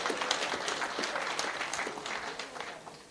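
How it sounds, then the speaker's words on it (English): Applause at a school rationalisation programme session in the Eastern Cape: a steady, fairly quiet wash of many people clapping, heard from a distance in a large room, sustained throughout without a clear voice on top. "Give them a very big round of applause."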